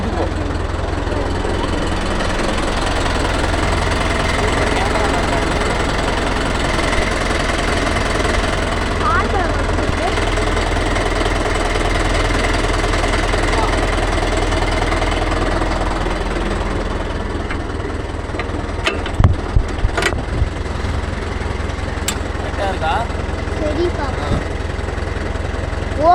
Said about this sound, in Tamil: வண்டியை ஸ்டார்ட் பண்ணிட்டேன்